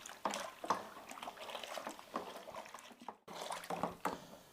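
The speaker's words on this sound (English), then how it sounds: "I let the tap run and I keep adding cold water" Cold tap water runs steadily into a home beer brew mix, a continuous splashing, trickling flow heard up close with a brief pause before it resumes.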